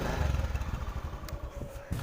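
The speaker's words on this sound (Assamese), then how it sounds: "বাইক ষ্টাৰ্ট কৰি ল'লোঁ" A motorcycle engine idles just after starting, a close, low, steady putter with a faint thump near the end.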